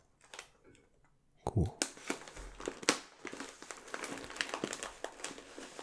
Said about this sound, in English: So this is a nice crinkly bag.